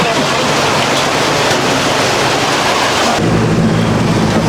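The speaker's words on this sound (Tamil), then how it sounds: "இவ்வளவு மழை பெய்யுது." Dense, loud wash of heavy rain pouring down continuously in Tiruvannamalai, close and roaring, its tone shifting slightly partway through.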